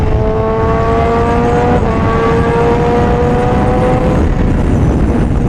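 A Honda CBR1000RR-R Fireblade SP motorcycle engine loping at low RPM on a night ride, a steady, slightly uneven drone with a few shifting tones, buried under constant loud wind rush.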